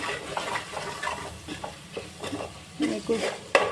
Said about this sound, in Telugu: సాల్ట్ మరియు కారం వేసుకున్న తర్వాత మళ్ళీ ఒకసారి అంతా కలిసేలా కలుపుకోండి